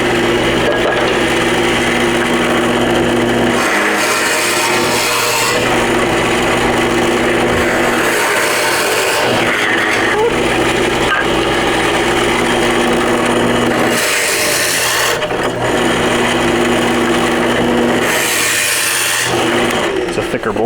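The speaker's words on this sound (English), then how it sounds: "Drill holes in the ends." A loud, steady power drill whirs continuously, with a few brief dips in pitch as it bites into the ends of wooden boards, close to the microphone.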